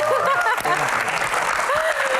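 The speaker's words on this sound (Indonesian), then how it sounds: "Tepuk tangan." Studio audience applause on an Indonesian talk show, a brisk burst of clapping heard under a host's voice.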